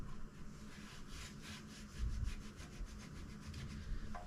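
A rag rubs over the engine of a Mazda B2600i truck near the valve cover after a brake cleaner spray, in quick rhythmic back-and-forth strokes, close and steady with no talking.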